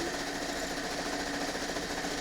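Steady, fast mechanical whirr of a sewing machine stitching a quarter-inch seam on a quilt, close and continuous with no pauses.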